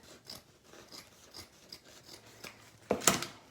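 Scissors snip through a thick abdominal dressing pad, giving a few soft rubbing cuts and then a louder crisp crunching slice at the end, close and alone.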